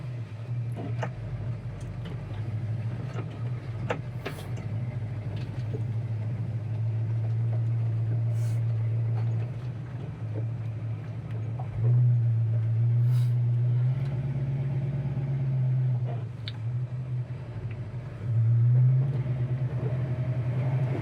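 A 1968 Ford Mustang's engine and exhaust rumble low and steady from inside while driving, swelling briefly as the car accelerates, with faint clicks and cabin noises over it.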